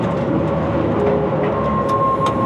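An iron-mine train runs along the rails, giving a steady, loud rumble and grinding roll that carries on throughout with no talk over it.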